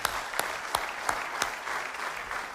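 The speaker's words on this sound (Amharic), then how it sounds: "ጌታ እልልታና ጭብጨባ እንስጠው" Worshippers in a church congregation clap and cheer for the Lord, with a continuous bed of crowd noise punctuated by several sharp, evenly spaced loud claps or beats.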